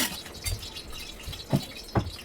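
A spoonful of oil is poured into a cooking pan while making a masala drumstick dish with toasted coconut, heard as a few soft, close drips and splashes over a quiet kitchen background.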